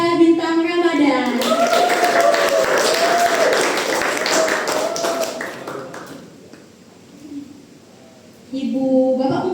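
Seminar audience of high school students in a hall applauding for about five seconds, claps loud and rapid before fading to near quiet, with a speaker's voice at the start and end.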